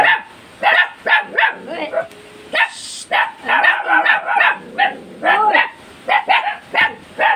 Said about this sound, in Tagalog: Ano nga yung mga asong ito?